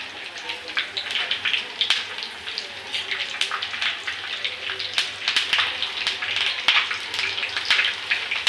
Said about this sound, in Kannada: ನೋಡಿ ಒಗ್ಗರಣೆಗೆ ಸಾಸಿವೆ ಮತ್ತು ಕರಿಬೇವು, ನಾನು ಒಣಮೆಣ್ಸಿನ್ಕಾಯಿ ಒಂದು 5 ತಗೊಂಡಿದ್ದೀನಿ.